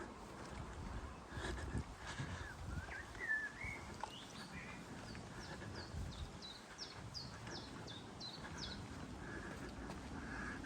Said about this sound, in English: There's a bit of bird song for you.